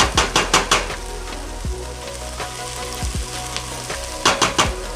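Onions sizzle steadily in a pan for marinara sauce, a close, continuous fry broken by a few sharp scraping and stirring clicks near the start, middle and end.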